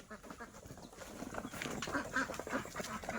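A flock of laying ducks quacks in overlapping, busy calls that grow louder, heard amid outdoor farmyard noise by a coconut-grove canal.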